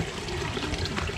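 A waterfall at a natural koi pond pours in a steady, dense rush of splashing water, continuous and fairly close, with no voices.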